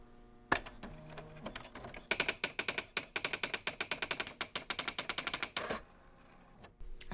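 A manual typewriter clatters with a rapid run of sharp, evenly spaced keystrikes, preceded by a few scattered taps and mechanical clunks, close and alone with no voices.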